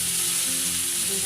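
Pieces of chicken malai boti fry steadily in a hot pan, giving a loud, even sizzle with a low bubbling undertone throughout, with no voices.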